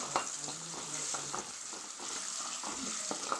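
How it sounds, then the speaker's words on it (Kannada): Chopped onions fry in a pan for an egg gravy, a soft, steady sizzle with light stirring and scraping sounds scattered through it, fairly quiet and without talk. "ಅದಕ್ಕೆ ಕಟ್ ಮಾಡಿರೋ ಈರುಳ್ಳಿ ಹಾಕ್ಕೊಂಡು ಫ್ರೈ ಮಾಡಬೇಕು."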